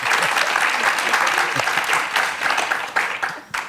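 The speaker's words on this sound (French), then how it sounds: "Un applaudissement pour Cynthia." An audience at a talk on substantive democracy and the ethics of care applauds for Cynthia. The clapping is steady and fairly loud for several seconds and thins out at the end.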